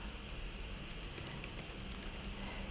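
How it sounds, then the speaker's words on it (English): Keystrokes on a computer keyboard, a quick run of light taps clustered in the middle over a steady background hiss, fairly faint and with no talking. "but I'm just typing it first."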